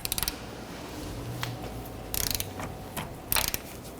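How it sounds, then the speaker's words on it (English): A torque wrench tightening the rear control arm bolt on a 1992–1996 Toyota Camry, three short bursts of fast ratchet clicks separated by quieter pauses, close by. "Torque the rear bolt to 152 foot-pounds"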